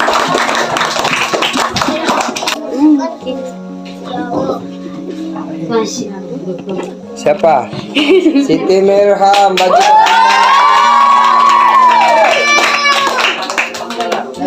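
Students clap in a classroom, a scattered round of applause mixed with loud talking voices and some tapping, the clapping rising and falling beneath the chatter.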